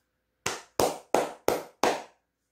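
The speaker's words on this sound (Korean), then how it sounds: "여러분들 박수 한번 치고 가겠습니다" Five sharp hand claps in an even rhythm, close and clear, each with a quick decay, in a finance talk about Samsung Electronics overtaking Intel.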